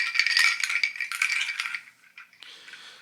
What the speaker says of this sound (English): I think they're Seedpods. They make a really cool sound